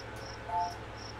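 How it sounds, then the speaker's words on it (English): Crickets chirp inside a video game, three short, faint chirps spaced evenly in a quiet ambient background. "it even has the fucking crickets"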